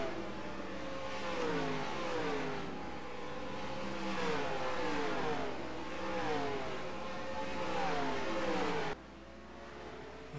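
Race truck engines roaring in NASCAR Racing 2003 on the Mayville track, a sustained loud drone of several engines with rising and falling pitch as the trucks accelerate through the esses, briefly dipping near the end.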